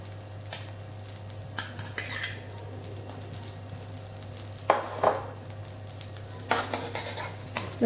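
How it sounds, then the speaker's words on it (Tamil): Butter melting and sizzling in a kadai for paneer butter masala, a soft steady fry under several sharp stirring and utensil clinks, close and clear. "வெண்ணெய் லேசாக மெல்ட் ஆனால் போதும்"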